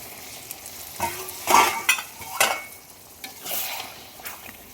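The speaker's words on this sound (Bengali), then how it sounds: "এবার এখানে একটু গরম জল দিয়ে দেবো" Hot water splashed into fish curry with eggplant frying in a pan: loud sizzling bursts as spoon stirs scrape and clatter against the pan in uneven strokes, close by with no speech.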